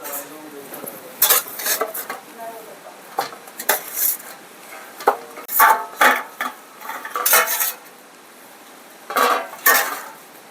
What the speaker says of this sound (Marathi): परातीत काढून घेतले, जरा मोकळे करून ठेवते, पटकन गार होईल याच्यात.